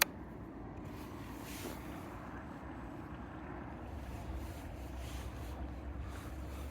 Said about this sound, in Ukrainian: Запускаємо, дивимося, як пливе кораблик